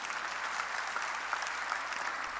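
A congregation applauds during a church sermon, a steady, fairly distant wash of many hands clapping with no voices.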